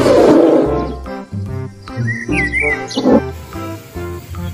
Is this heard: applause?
no